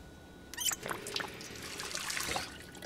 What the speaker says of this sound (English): Let's grab some water here.